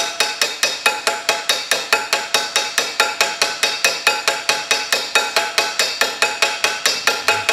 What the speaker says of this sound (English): Putting the bearing races in for the headstock as opposed to an old one. I'm tapping it with my toffee hammer.